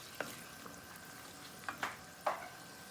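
Quiet simmering of cheesy pesto pasta sauce in a pan with a few scraping stirs of a spoon, soft and close, with no talking.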